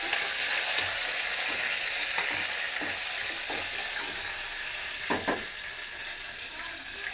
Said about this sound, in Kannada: ಅದು ಹಾಕಾದ್ಮೇಲೆ ಒಂದಿಷ್ಟು ಪುದೀನ ಹಾಕಿ ಚೆನ್ನಾಗಿ ಫ್ರೈ ಮಾಡ್ಕೋಬೇಕು